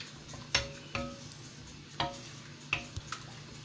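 A spoon scrapes and knocks against a pan while stirring a thickening mango cake mixture on the stove, with a few sharp irregular clinks over a quiet background.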